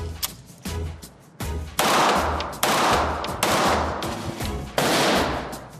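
Handgun shots ring out at a shooting range as a series of loud, sharp reports spaced irregularly about a second apart, each with a short echoing tail, with no voices between them.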